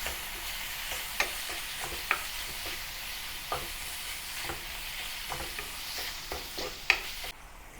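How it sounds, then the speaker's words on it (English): Minced pork fries in hot oil while a spatula breaks it up, making a continuous close sizzle with sharp scraping taps at an irregular rhythm. "add the minced meat and loosen the minced meat with the spatula"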